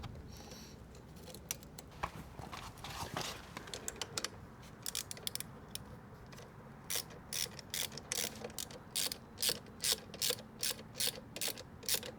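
A hand ratchet clicks rapidly as a bolt is tightened on a Honda CB125F motorcycle gear shifter, close and crisp, first with some handling noise, then in quick regular bursts of clicking strokes.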